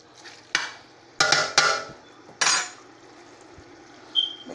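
A spoon clanks against a pot while cheese is stirred into a ground beef meat sauce, giving four or five sharp metallic knocks spread irregularly over a few seconds at close range.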